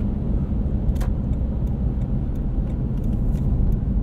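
Toyota 4Runner driving on back roads, a continuous low engine and road rumble from inside the cabin with occasional light rattles and clicks.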